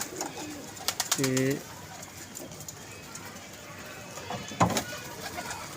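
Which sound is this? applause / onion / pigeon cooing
pigeon cooing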